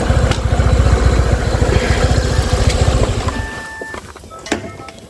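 A motorcycle engine idles close by with a steady low putter for about three seconds, then cuts off, leaving quiet with a few faint clicks.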